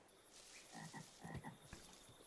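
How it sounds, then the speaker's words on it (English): Repeated croaks from a frog in Minecraft, a few short rough calls in quick succession against a quiet swamp background, moderately close and alone without talk. "Goddamn frog."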